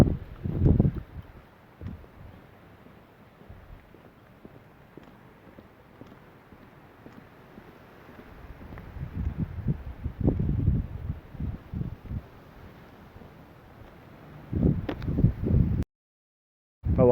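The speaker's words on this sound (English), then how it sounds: "here comes the wind again" Gusty wind blowing across an open moorland hilltop and buffeting the microphone in uneven rising and falling bursts, strongest toward the middle and end, with no voices.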